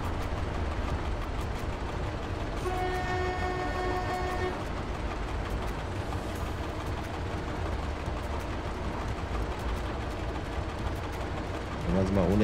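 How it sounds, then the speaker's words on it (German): Another train rumbles past a train in a Train Driver 2 simulator run between Wasilków and Sufczyn, a steady loud broadband roar with a brief tonal whine or horn-like ringing near the start. "Der andere Zug."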